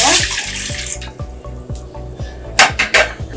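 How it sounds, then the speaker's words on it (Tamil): A cup of water pours into a metal cooking pot while jaggery syrup is prepared for pooranam kozhukattai, a bright splashing stream up close, with light clinks of the vessel near the end. "பாத்திரத்துல தண்ணி 1 கப்"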